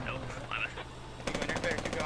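Rapid automatic gunfire in the military shooter game Squad rattles in a quick rhythmic burst during the second half, following quieter game sounds, with a commentator's voice faint in the background.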